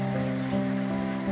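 Rain falls steadily on a surface, an even close patter with a faint underlying hum running through the whole moment, no one speaking.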